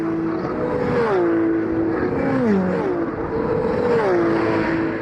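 Porsche race cars of the 2B Autosport team lapping Paul Ricard circuit, loud engine notes rising and falling through gear changes as they sweep past, continuous and close, no talk.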